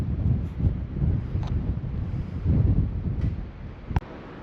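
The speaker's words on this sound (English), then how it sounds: "It's a little bit windy today" Stiff wind blows across the microphone on a Hawaii cruise ship heading into a port channel, a loud continuous buffeting rumble with gusts that rise and fall, broken by a single sharp click near the end.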